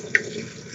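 Water is poured into a blender jar holding torn paper, a brief close splash rising over a soft steady trickle for under a second, with no voices.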